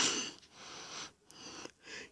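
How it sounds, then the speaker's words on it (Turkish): Quick, heavy breaths from someone out of breath, close and soft, with three or four gasping inhale and exhale cycles in a couple of seconds. "nefes nefese kaldım ya la"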